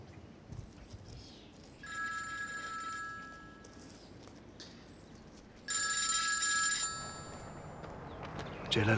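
Telephone on speakerphone ringing, two electronic rings with a pause between them, faint and indoors, a voice speaking at the end.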